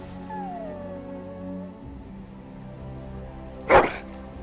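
A dog in the fantasy video game Dragon Age: Origins gives a drawn-out whining howl that fades, followed after a pause by a single short, loud bark.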